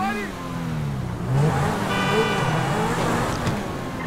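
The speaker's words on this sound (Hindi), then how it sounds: "ये देखो एग्जॉस्ट भाई, फायरिंग देखो कार की।" A Lamborghini SVJ 63 in the video game GTA V, its engine revving while the exhaust pops and fires, with a rising whine partway through and a person talking over it.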